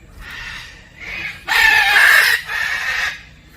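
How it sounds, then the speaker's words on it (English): Several birds at Parrot Mountain in Pigeon Forge, Tennessee, crowing together: loud, raspy, drawn-out calls in overlapping bursts, swelling to a peak midway and tapering off, close by. "Y'all crow at the same time."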